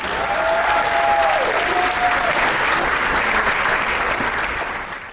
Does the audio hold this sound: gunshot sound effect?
no